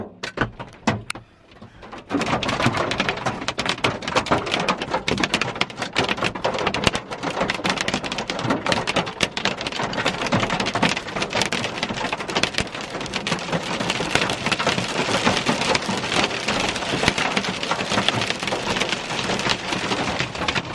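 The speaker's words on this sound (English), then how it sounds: "Major hail." Heavy hail and rain pound down during a violent storm at the Garden of the Gods, a dense, loud clatter that starts abruptly after a brief quiet moment and continues unbroken.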